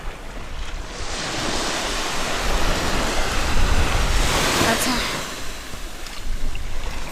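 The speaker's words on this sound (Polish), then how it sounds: "Tu jest taki ocean." Ocean waves roll and break on a beach beside azure water, a broad continuous wash of surf with swelling surges, mixed with gusts of wind buffeting the microphone.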